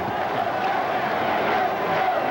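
A baseball crowd at a Mets game in Houston chants in the stands, a dense, steady roar of many voices that fills the whole stretch without a break.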